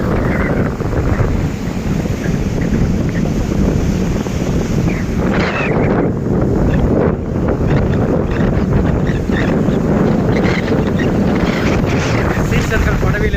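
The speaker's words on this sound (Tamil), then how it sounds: "இந்த கடல் அலைகளை பாருங்கள்." Sea waves and strong wind at Dhanushkodi near Rameswaram roar in a continuous loud wash, wind buffeting the microphone, with surf surges rising and falling throughout.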